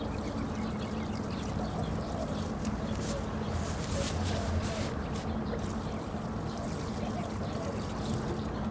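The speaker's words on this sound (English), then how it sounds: "I'm going to go ahead and drench the rest of my containers." Water pouring to drench container-grown citrus trees, a steady close trickle and splash running throughout with a brief louder gush in the middle.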